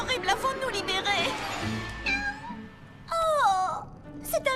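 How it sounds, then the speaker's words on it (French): A small cartoon kitten gives a couple of high, wavering meows in an animated Monster High episode, mixed with voices talking and background music. "Oh, c'est un mignon petit chaton."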